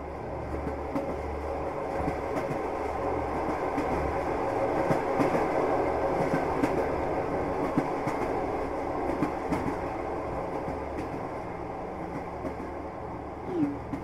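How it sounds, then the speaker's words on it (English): A train rolls through a tunnel toward the listener, a steady, loud rumble with a faint clattering texture that holds for the whole stretch without any voices. "we can see another train moving towards us"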